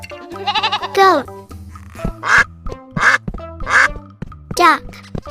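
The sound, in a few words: duck quacking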